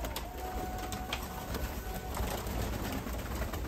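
Soft cooing of a Turkish tumbler pigeon in a noisy outdoor setting, with a steady hiss and a high whine running underneath throughout.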